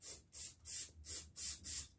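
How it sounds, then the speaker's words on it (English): Aerosol cleaning fluid sprayed into the carburetor jet of a Briggs and Stratton engine on a Craftsman tiller, six short close hissing bursts in an even rhythm with brief pauses between. "Spray a little fluid there."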